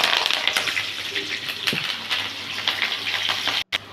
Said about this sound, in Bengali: কাঁচা লঙ্কাগুলো ভাজা হয়ে গেছে